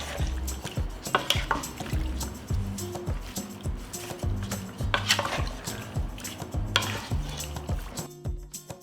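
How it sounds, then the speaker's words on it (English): Plums are stirred in their released juice inside a pot for homemade jam, with repeated clinks and scrapes of the spoon against the pot over a steady wet churning, close and fairly busy throughout before a brief quiet at the end. "After the plums have stood and released their juice, I will stir."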